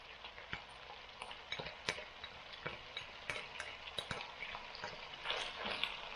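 Carrots frying in a pan with a little oil, stirred with a utensil that scrapes and clicks against the pan in irregular bursts over a steady close sizzle, for pancit canton and sotanghon.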